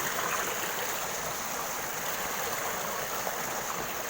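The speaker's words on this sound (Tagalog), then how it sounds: "Rinig yung ragasa. Pakinggan yung ragasa." A creek's rushing water pours in a steady, dense hiss, close and constant throughout, with no voices.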